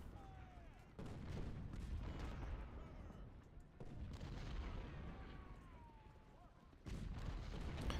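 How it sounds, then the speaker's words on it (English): Confederate artillery fire in the Ultimate General: Civil War battle game, booming in heavy repeated bursts over a constant low rumble of battle noise, with sharp onsets near one, four and seven seconds. "now we're going to be under Confederate artillery fire the whole way"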